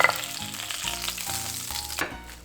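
Red sea bream head deep-frying in hot oil with oil spooned over it, giving a steady close crackling sizzle with small bursts and stirring clinks throughout.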